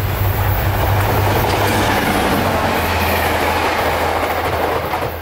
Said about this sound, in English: there was still one more Sunrail train to get out of the way